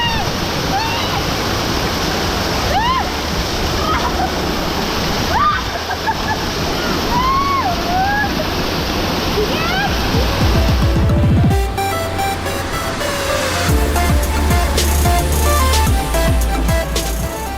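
A loud, constant roar of the Mata Buntu waterfall, surrounded by trees, fills the scene, with birds chirping over it early on and a brief splash of other noise midway.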